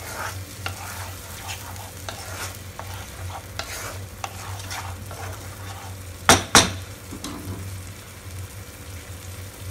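Soya chunks fry in a pan and are stirred with a utensil, soft scraping strokes over a low sizzle, with two sharp metallic clanks against the pan near the end; no talking.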